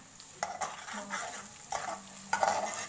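Chopped garlic and ginger fry in a pan, with a soft sizzle broken by several sharp scraping stir strokes spaced through the moment.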